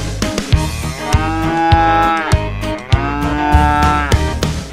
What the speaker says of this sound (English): The cow goes moo moo.